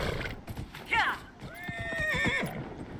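In Dragon Age: Inquisition, a horse neighs sharply once amid quick hoofbeats and clip-clop while galloping, with a voice speaking briefly over the top.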